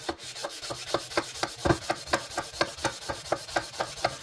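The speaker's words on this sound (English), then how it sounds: "Do a lot of sanding making guitars, that's for sure." Rhythmic back-and-forth sanding on a rosewood guitar fretboard, a raspy scratching stroke repeating steadily about three times per second, close and fairly quiet.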